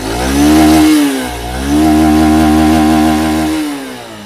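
Honda SP 160 motorcycle, 2023 model, revs through its exhaust in two loud, close throttle blips, each rising and holding with a buzzing tone before dropping back.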